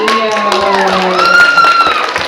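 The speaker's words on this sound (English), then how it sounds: "Big round of applause for 7 and Emilio." A crowd at a poodle performance show applauds and cheers loudly, with dense clapping under rising and falling whoops and shouts that run continuously from start to finish.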